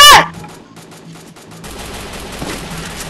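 A burst of automatic gunfire in a video game, a short rattling volley followed by lingering noisy game sound, loud and close.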